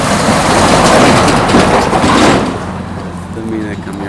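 A truck passes on a busy road beside a roadside motel-restaurant, a loud, close rumbling roar that fades away after a few seconds. A voice can be heard briefly near the end.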